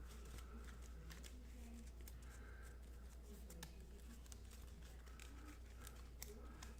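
Playing cards for the Combat Commander board game are shuffled in a quiet room, giving soft, repeated riffling and flicking sounds at low volume with faint background hum.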